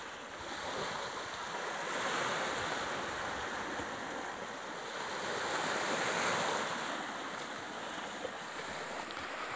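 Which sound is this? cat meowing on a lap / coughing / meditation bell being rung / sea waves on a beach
sea waves on a beach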